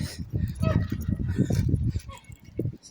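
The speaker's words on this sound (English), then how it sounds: "There's a dog outside the co-op. That's what that noise was." A small dog barks in short, repeated yaps outside a co-op shop, fairly close and mixed with street noise and voices throughout.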